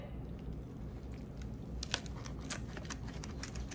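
A knife or cutter slices into a keto Mexican chicken pizza with a low-carb crust, making a few faint, crisp crunching cuts close by over quiet kitchen background.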